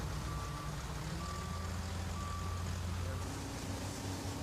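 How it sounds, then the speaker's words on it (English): Intermittent backup beeps from a dump truck reversing during road shoulder repair, hauling windrowed pavement-edge material, steady tones repeating over a loud continuous engine rumble and broadband outdoor noise. "Load the material into dump trucks and haul it away to a waste area."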